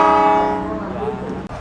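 A CC206 diesel locomotive hauling the Arjonegoro train out of Bojonegoro station sounds its horn, a loud, sustained, rich multi-tone blast close by that fades slightly over its length.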